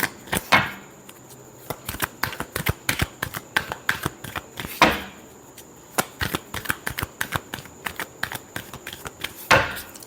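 Tarot cards being shuffled by hand in quick riffling bursts of crisp, close clicks and flutters, with a few louder slaps between runs over about ten seconds, no speech.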